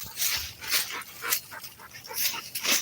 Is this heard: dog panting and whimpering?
yes